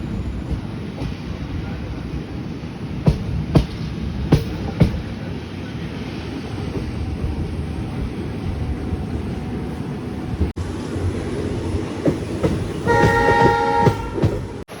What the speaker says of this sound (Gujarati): ટ્રેને તો રફતાર પકડી લીધી છે.